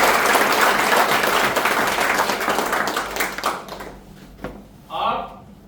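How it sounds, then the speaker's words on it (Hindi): A hall audience gives loud, dense applause at a talk, the clapping strong at first and then thinning out and fading over several seconds, followed by a brief burst of speech at the end. "मैं चाहूंगा जोरदार ताली एक बार के लिए होगा।"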